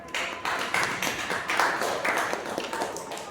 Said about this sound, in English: Can we have a big applause for her?